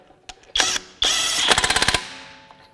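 A Kobalt 24-volt brushless mid-torque 1/2-inch impact wrench runs in hand-tight mode at level 1, giving two short motor bursts followed by a quick rapid-fire series of about eight hammering impacts, loud and close with no talking.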